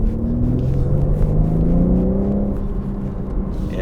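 A BMW M3 engine pulls hard under acceleration, its rising harmonic tone climbing steadily with a constant throaty rumble, loud and close throughout with no talk.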